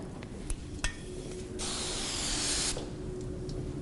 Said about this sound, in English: I'm going to spray her again